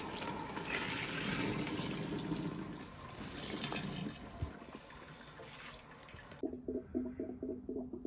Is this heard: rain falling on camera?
no